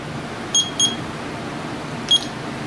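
Three short electronic beeps from the timer on a Volt custom home-brewing system, two in quick succession then a third a moment later, sharp and clear over a quiet background hiss.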